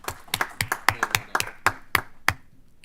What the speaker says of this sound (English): if we could just give a round of applause to Brandon and Brett for the work that they've done for us this interim